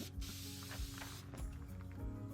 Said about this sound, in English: spray all along here and fasten the felt to this point here